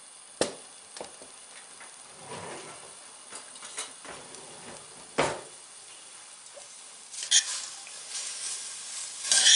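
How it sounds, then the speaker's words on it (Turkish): Carrots sauté in olive oil in a pan for a yogurt carrot salad, giving a soft sizzle broken by occasional sharp scrapes and stirring clatter, with louder spattering toward the end. "güzelce kavuracağız"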